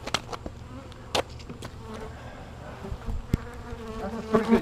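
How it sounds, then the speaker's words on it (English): Bees buzz around at close range, a faint droning hum with scattered clicks and knocks, no talking. "Those bees are trying to get in there?"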